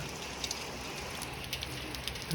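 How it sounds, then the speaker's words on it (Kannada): Morning rain falls in a soft, even patter with scattered drops striking a surface nearby, continuous and fairly faint. "ಮುಂಜಾನೆ ಮುಂಜಾನೆ ಮಳೆ ಬರ್ಲಾಗ್ತದೆ ಇಲ್ಲಿ"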